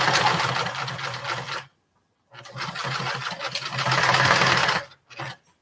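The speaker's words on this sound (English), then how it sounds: "so we're going to sew a little bit." A sewing machine stitches a small standing bag in two steady, close bursts of rapid needle chatter, separated by a short silent pause and followed by a brief final spurt.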